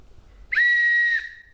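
A guitar-shaped whistle candy is blown once, producing a single clear, steady, high-pitched whistle tone lasting about half a second, close and isolated against silence.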